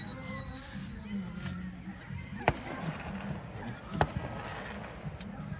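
Fireworks rockets going off outdoors at a Fourth of July family gathering, a couple of sharp pops standing out over a steady hiss of background noise while people talk nearby.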